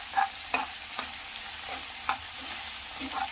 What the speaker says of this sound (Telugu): తరువాత టమోటా, పచ్చిమిర్చి వేసుకోవాలి. వేసుకొని కొద్దిగా ఫ్రై చేసుకోవాలి.